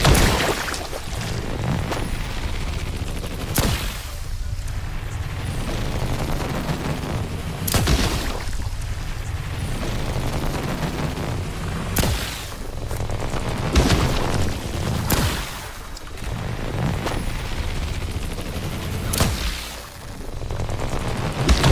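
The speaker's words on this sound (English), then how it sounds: "let's just use our electric rifle and clear out these mess" An electric rifle fires in The Last Caretaker video game. Loud booming shots recur every few seconds over a dense, constant background rumble, and no one speaks.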